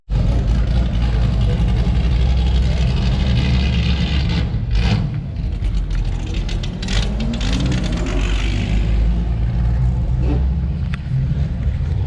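A De Tomaso Pantera's engine rumbles loudly and steadily nearby outdoors in Velden, with a brief rev swell midway and faint background voices.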